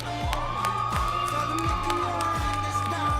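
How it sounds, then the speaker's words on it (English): Crowd at a CrossFit team competition cheering and whooping steadily throughout, a sustained roar of voices with shouts, while a low rhythmic beat of arena music pulses underneath. "You can hear in the crowd, we got some good support for these teams."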